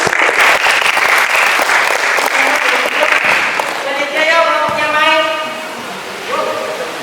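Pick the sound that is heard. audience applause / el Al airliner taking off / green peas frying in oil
audience applause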